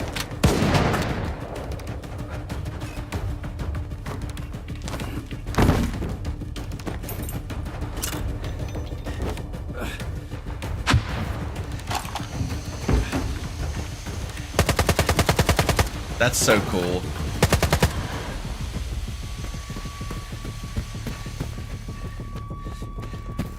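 Gunfire in the video game S.T.A.L.K.E.R. 2: scattered single shots and sharp automatic bursts, some loud and close, others distant, with a loud sustained volley midway and brief speech in between.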